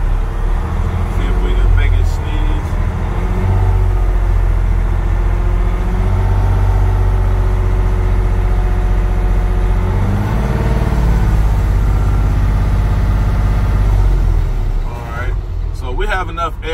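A Class B truck engine idles steadily and loudly while building air brake pressure, a continuous low rumble with rhythmic throb, and a voice talks over it near the end.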